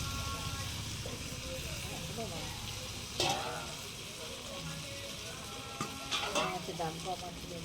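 Tangra fish frying in a pan with a paste of garlic, green chilli and cumin, giving a steady close sizzle with a few scraping stirs, while a voice talks over it.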